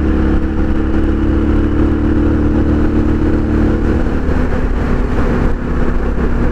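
A Suzuki DR650 motorcycle fitted with an FMF exhaust rumbles steadily while being ridden, its loud, constant engine drone mixed with wind rush, without any talking.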